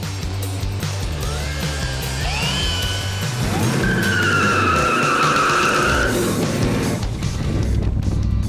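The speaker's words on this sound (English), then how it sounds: "the guys are gonna go test drive the car for the first time, check out the brakes" A 1967 Chevrolet Nova on its first test drive with a brake check, tires squealing and skidding loudly over a rumbling engine, several rising squeals in the middle and a long screech around four to six seconds.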